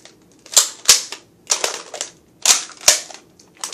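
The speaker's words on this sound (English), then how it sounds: "Gotta put one gun down, lock and load it, put the other gun down, lock and load it, and then I'm ready." A Nerf blaster is cocked and loaded by hand, close up. Its sharp plastic clicks and snaps come in quick pairs and clusters, separated by short pauses.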